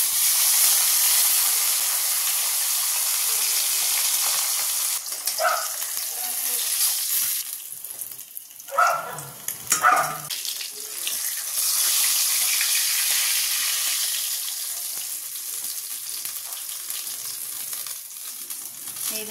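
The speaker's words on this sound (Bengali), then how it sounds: "তেল গরমও হয়ে গেছে, চলো মাছগুলো ভেজে নিই।" Pomfret fish frying in hot oil, a continuous close hissing sizzle that swells with bursts of spattering midway before settling back to a steady fry.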